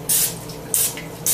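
Cooking oil sprays onto a baking pan for protein banana bread in three short hissing bursts, close and fairly loud, roughly half a second apart, with no talking.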